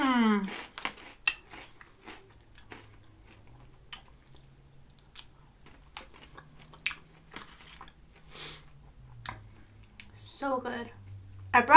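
Flamin Hot Cheetos and cocktail shrimp eaten close to the mic, with scattered crunchy bites and soft chewing between quiet pauses and brief talk.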